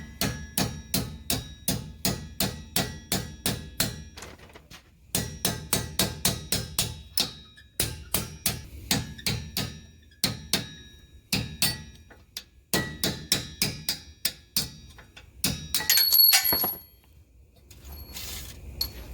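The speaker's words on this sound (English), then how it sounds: "get you a punch like this to punch the pin out." On a 2006 Porsche Cayenne during a brake pad replacement, a hammer strikes a punch to drive out a brake pad pin, making rapid close metallic blows in bursts of steady rhythm separated by short pauses.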